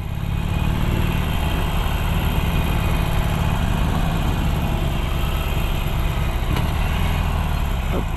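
A Harley-Davidson Iron 883 motorcycle engine runs steadily at close range on a test ride, a continuous low rumbling drone with wind noise and no voice over it.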